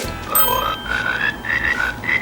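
Electronic frog croaks from a foot-played toy piano in a quick series of warbling tones, stepping up in pitch, close and alone.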